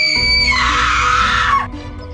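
A painful, frightening scream from a horror story rings out loud and close, a single sustained shriek that rises sharply, holds for over a second, then breaks off abruptly.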